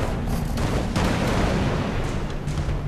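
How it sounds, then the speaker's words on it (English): Cannon fire from a crab enemy in the video game Alice: Madness Returns, underwater level: dense, continuous booming blasts and rumbling impacts fill the whole stretch at steady loudness, with no talk. "that crab is shooting cannonballs at me"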